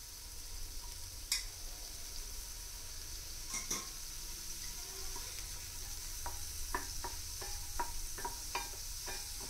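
Cut mushrooms sizzle steadily in a hot pan. A utensil stirs and scrapes them in a series of short clinks and scrapes over the continuous frying hiss, with no voices.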